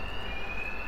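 A steady, piercing alarm tone rings continuously in a Batman: Arkham Knight game scene, loud and unbroken over a dense background rumble.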